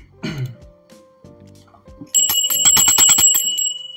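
A small handheld bell rings briefly, then a bright sustained jingling flurry rings out loudly and close, after a throat clear and a few faint sounds.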